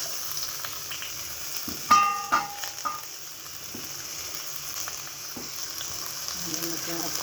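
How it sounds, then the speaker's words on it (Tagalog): Onion sautéing in hot cooking oil gives a soft, steady sizzle, broken near the start by a few clinks of a utensil against the pan. "naglagay na po tayo ng mantika. Dahil po natin gisahin ang sibuyas."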